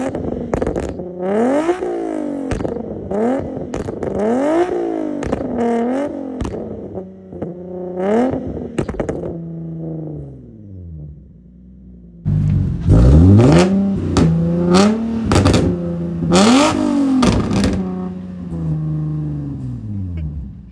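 A Nissan 370Z with a modified exhaust revs repeatedly, its engine note rising and falling in loud close sweeps, settling to idle briefly before another burst of hard revving.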